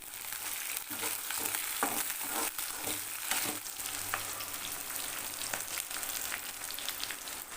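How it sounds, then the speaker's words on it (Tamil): A few cloves of chopped garlic frying in a pan, a dense, continuous sizzle with repeated scraping stir strokes close up. "பூண்டு வந்து ஒரு நாலஞ்சு பல் போட்டுக்கலாம் கட் பண்ணி போட்டுக்கோங்க"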